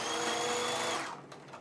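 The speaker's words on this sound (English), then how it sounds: "I'm going to sew it again" A sewing machine stitching the shoulder seam of a puffer jacket runs loud and steady for about a second, then stops, leaving faint clicks and rustling.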